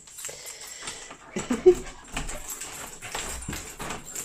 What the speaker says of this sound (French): Mon chien réclame sa petite friandise